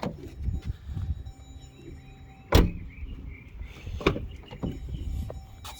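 Dodge Durango 2021 door swung shut from inside the cabin, a solid thump midway, with lighter clunks and small interior noises before and after in a quiet car.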